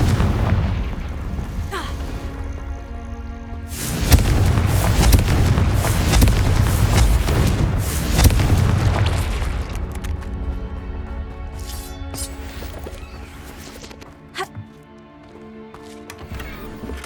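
A Confringo fire spell explodes in the Hogwarts Legacy video game, a loud booming blast that rumbles for several seconds before fading, followed by scattered smaller pops and game effects.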